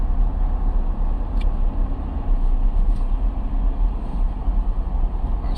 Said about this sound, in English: Nice traffic. Thick as all over tonight,